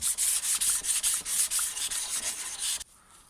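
An angle grinder sharpens hedge trimmer blades, giving a steady, loud, high abrasive hiss with a slight pulsing rhythm. It cuts off abruptly near the end, leaving only faint background noise.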